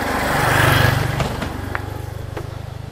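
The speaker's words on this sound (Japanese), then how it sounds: "言った途端にバイクが来た" A motorbike passes on a mountain road, its engine building to a loud near roar and then fading as it moves away, leaving a low steady hum.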